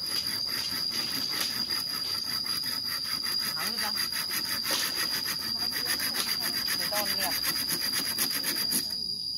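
A hand saw cuts through wood in a forest, giving a continuous rapid rasping stroke after stroke, loud and close, with a high insect-like whine running steadily underneath.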